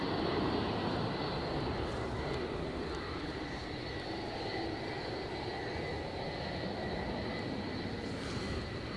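A Delta airliner at Edinburgh Airport gives a steady, loud jet roar that holds at an even level for the whole stretch, with no talking over it.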